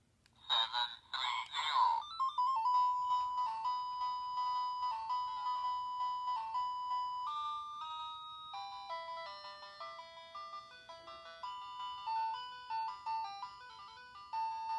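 A Power Rangers in Space Digiphone morpher toy plays a beeping electronic tune, preceded by a few rapid button tones, thin and tinny, close up, with a faint background murmur.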